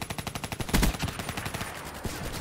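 Gunfire in the Call of Duty Black Ops III multiplayer match, including sniper rifle shots: a fast train of sharp cracks with a louder burst near the start, then scattered shots fading under game noise.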